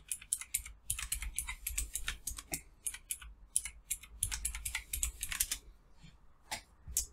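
Fast, irregular clatter of keys on a computer keyboard as a password is typed while setting up a server, close and moderately quiet, with short pauses and a few final isolated keystrokes, no voices.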